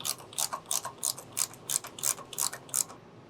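A hand ratchet clicks in quick repeated bursts, about a dozen crisp pawl ticks in a steady rhythm, close and alone, as bolts come off the handlebars of a Harley motorcycle.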